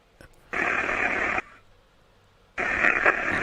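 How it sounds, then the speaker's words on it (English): Two loud bursts of steady pink noise hiss from a spirit box device, the first lasting about a second, then a brief quieter gap before the hiss returns. "pink noise is softer on the ears, but you sort of need to amp it a bit"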